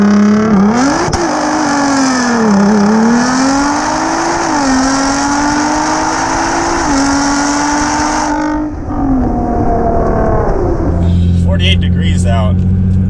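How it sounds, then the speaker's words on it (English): An R35 Nissan GT-R doing an all-wheel drive burnout, its engine roaring loud and steady at high revs with shifting pitch for several seconds before cutting to a lower, rougher tone, a voice talking over it. "Holy crap, that was an all-wheel drive burnout."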